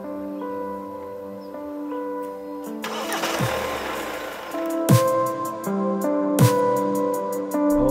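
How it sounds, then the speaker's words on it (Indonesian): Hyundai Santa Fe engine cranking and catching around the middle, settling into a steady idle, with sharp electronic chimes and tones from the cabin sounding repeatedly over it. "bisa di starter dari depan, dan langsung tancap ke dalam"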